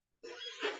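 A single short, harsh cough bursts out close to the microphone after a brief silence, rough and breathy with a slight second push at the end.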